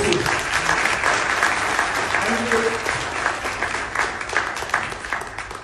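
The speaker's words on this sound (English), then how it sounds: "I would like all of you to give a great round of applause for Indian Air Forces." Audience applause at a speech in Singapore honoring the Indian Air Force, a dense sustained round of clapping from a large crowd that gradually thins out toward the end.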